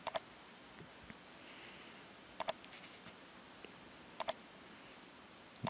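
Crisp computer mouse clicks while configuring Azure virtual network connections, arriving as quick double clicks spaced a couple of seconds apart over a faint steady hiss, near and alone.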